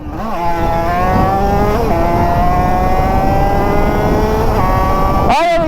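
A 50cc moped engine screams at full throttle, a loud, close, sustained high-pitched rev that climbs and dips slightly before a sharp upward flare at the end.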